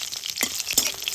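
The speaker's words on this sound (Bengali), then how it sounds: "শুকনো লঙ্কা দিলাম" Dried red chillies frying in hot oil in a home kitchen while cooking potato and spring onion, a soft steady sizzle with a few brief crackles and pops, close by.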